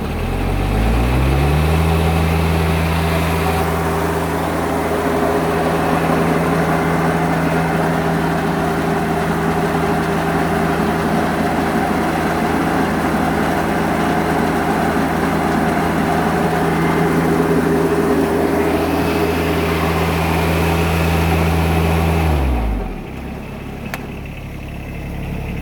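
A John Deere X748 garden tractor fitted with a Rad tech snowblower runs alone, its engine giving a loud, steady drone that holds at a high pitch for about twenty seconds, then cuts off sharply near the end.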